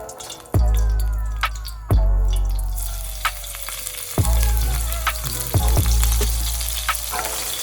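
Green onions sizzle in hot cooking oil for shrimp fried rice, a steady close crackle punctuated by several sharp knocks and clinks from the pan.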